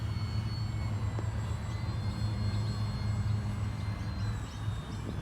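A radio-controlled model biplane drones steadily overhead at an outdoor flying session, a continuous buzzy engine hum with faint whining tones that swell slightly as it passes, no one talking.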